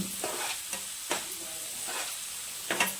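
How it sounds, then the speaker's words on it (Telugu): An omelette mixture with turmeric sizzles in a pan while a utensil stirs it, with several distinct scraping strokes over a constant frying hiss, heard up close. "పసుపు వేసుకొని అంతా కలిపేసి మొత్తం మంచిగా దగ్గరికి అవ్వాలి"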